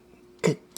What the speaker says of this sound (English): Minus the cough that I've had.